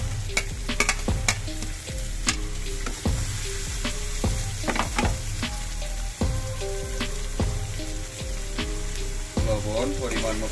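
Garlic and onion fry in a pan for a hilsa fish curry, a close, steady sizzle punctuated by frequent sharp stirring scrapes and taps of a utensil against the pan.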